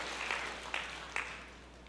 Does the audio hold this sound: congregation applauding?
yes